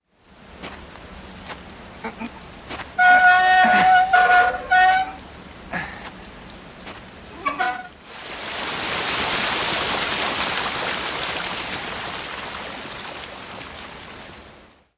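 Rushing water at a sluice gate in the game Forbidden Siren, a broad steady roar that comes in after several seconds of game sounds with brief tonal cues, continuing loud to the end.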